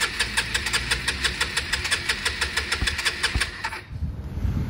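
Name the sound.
scooter engine cranking with the starter, nearly starting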